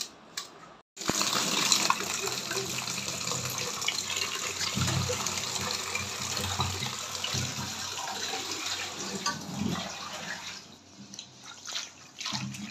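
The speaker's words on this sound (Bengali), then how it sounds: "এইভাবে আমি শাক ধুতে থাকি ঝুড়ির মধ্যে নিয়ে, যাতে না ছড়িয়ে বেরিয়ে যায়" Leafy greens being washed in a basket under running water, a steady splashing gush from a kitchen tap that starts abruptly after a brief silence and continues close and loud throughout.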